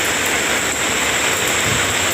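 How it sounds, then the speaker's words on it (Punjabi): Heavy rain falling outdoors, a dense, loud, continuous hiss of drops with no other sounds standing out. "ਤੇ ਮੀਂਹ ਆ ਗਿਆ ਬਹੁਤ ਕਾਫੀ"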